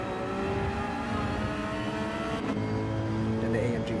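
Porsche 992 GT3-class race car engines roar and whine through gear changes in a racing game at Monza, with a steady buzzing drone and a shift in pitch partway through.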